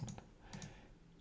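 A few sharp computer mouse clicks, close and fairly quiet: a quick pair at the start and another pair about half a second later, with no talking.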